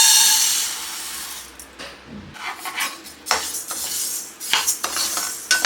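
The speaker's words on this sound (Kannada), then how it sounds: "ಮೊದಲು ಒಂದು ಪ್ಯಾನ್ಗೆ 1 ಕಪ್ ಆಗುವಷ್ಟು ಹೆಸರುಬೇಳೆ ತೊಗೊಳ್ಳೋಣ" About a cup of moong dal tipped into a metal pan, followed by a series of clinks, scrapes and rattles of utensil against pan, some sharp and close, with short pauses between them.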